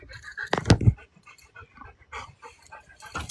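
Dogs pant and whimper nearby in short irregular bursts, with a louder snuffling flurry early and softer breathy sounds after.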